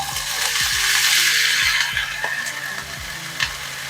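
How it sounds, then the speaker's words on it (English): Rice poured into a hot pan over medium heat sizzles and fries steadily, with scraping and stirring clatter near and loud, no talking. "Up next, I'm going to add in my rice."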